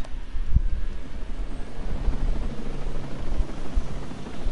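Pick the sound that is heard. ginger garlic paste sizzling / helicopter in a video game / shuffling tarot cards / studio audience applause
helicopter in a video game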